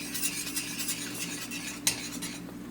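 Canned gravy simmers and bubbles in a pan while a utensil stirs and scrapes against the metal, a steady low sizzle broken by one sharper clink.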